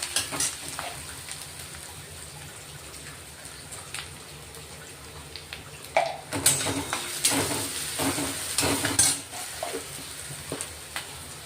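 Sliced onions fry with salt in a hot pan, a steady soft sizzle that brightens into louder crackling and stirring scrapes partway through. No voices are heard.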